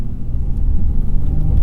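A 2021 Honda Ridgeline engine works at full throttle up an off-road hill in sand mode, a loud, close, continuous low rumble and roar with a steady heavy drone and no voices.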